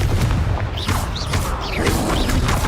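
Confringo blasting spell firing in Hogwarts Legacy, loud repeated booming blasts and crashing impacts in quick succession with whistling magical swooshes over dense combat noise.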